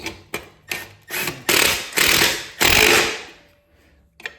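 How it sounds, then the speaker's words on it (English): A bolt being fastened on a Harley Sportster fender: a few short mechanical clicks, then several loud, close bursts of ratcheting tool noise that stop abruptly. "Now we are going to go ahead and get this bolt into place."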